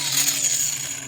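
A mini angle grinder smooths a miniature horse's hoof, producing a brief high-pitched whine with a steady tone and a rough grinding texture, close and fairly loud.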